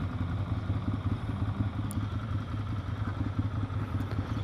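A learner-approved motorcycle engine idles close by, a steady low rhythmic putter with even pulses and light mechanical clatter throughout, moderately loud and without talk.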